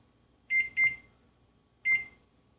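A kitchen timer beeps three times, two quick close tones then a pause and a third, each a clear high electronic beep in a quiet room, nearby and alone with no talking.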